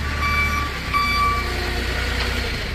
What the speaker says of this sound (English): You even have the backup alarm going here.